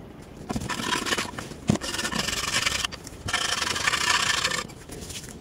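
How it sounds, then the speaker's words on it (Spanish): Scrubbing and scraping of a terracotta clay pot during cleaning, a series of rough rasping bursts separated by brief pauses, close and moderately loud. "Terminé de limpiar la maceta"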